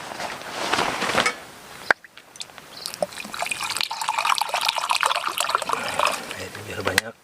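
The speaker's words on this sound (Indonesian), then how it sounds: "Setelah ini kita tambahkan air ya." Water trickles and splashes into a rujak kurawet spice mixture, a close, uneven pouring sound running for several seconds, with someone talking over parts of it.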